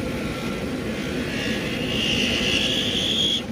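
A Ryobi brushless rotary tool carves wood under heavy load, a loud, close, steady high-pitched whine over a rough grinding rasp that rises in pitch toward the end and then cuts off.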